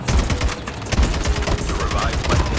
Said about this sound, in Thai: คนยิงข้างหน้าตรงนี้